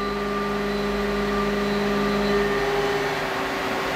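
A CNC mill spindle spins at 3,000 RPM, air cutting without touching metal while making custom vise jaws: a steady, even mechanical hum with constant tonal whine, loud and unbroken throughout, no talking.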